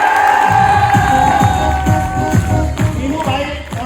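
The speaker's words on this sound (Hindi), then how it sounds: "मीनू भाई के लिए जोरदार तालियां से।" A hall audience applauds and cheers loudly, dense clapping with a steady rhythmic beat under sustained crowd shouting and voices throughout, the din staying full and close for the whole stretch.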